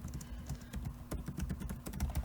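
Someone types on a computer keyboard, a rapid, uneven run of soft close clicks and taps over a low steady hum.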